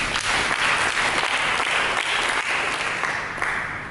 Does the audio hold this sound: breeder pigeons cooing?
no